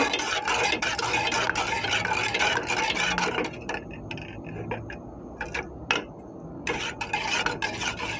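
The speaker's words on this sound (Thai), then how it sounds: "แล้วเราก็ไปตั้งไฟเคี่ยวให้เหนียวนะคะ" Teriyaki sauce with fresh butter simmering on a stove, with a close bubbling and crackling that is busy at first, then thins into scattered pops and sharp ticks. No one speaks.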